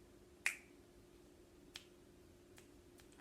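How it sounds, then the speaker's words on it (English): A sharp finger snap rings out clearly, followed by two or three much fainter snaps spaced apart, in a quiet room. "Can you click your fingers like that?"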